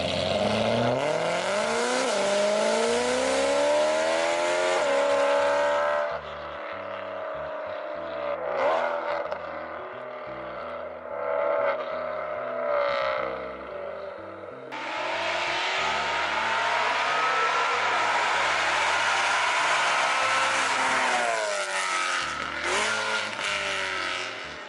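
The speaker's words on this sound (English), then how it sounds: "This is the best sounding engine maybe ever." A sports-car engine revs hard and loud, rising and falling through repeated bursts, with a throaty harmonic growl and a brief quieter stretch in the middle.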